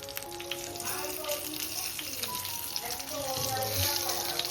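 Stuffed green chillies, filled with a ground masala paste, fry and crackle in a pan over a low flame with steady popping and sizzling, while faint talk sits underneath.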